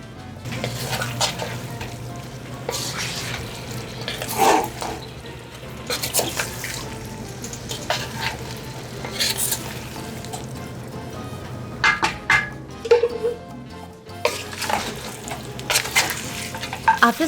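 Chicken and sausage for jambalaya sizzle in a hot pot while being stirred repeatedly, with bursts of crackling and scraping over a steady frying hiss.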